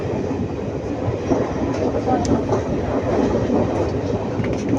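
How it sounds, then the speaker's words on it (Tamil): An Ernakulam Intercity train rolls slowly along a forest line between Dharmapuri and Salem in South India, a steady close rumble of wagons on the rails with faint wheel clatter and occasional high squeals. "இன்டர்சிட்டி, எர்ணாகுளம் இன்டர்சிட்டி செம்ம ஸ்லோவாக தான் வருது"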